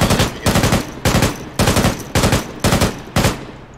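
Video game gunfire comes in six loud, close bursts of rapid automatic shots with short gaps between them, and no talk over it.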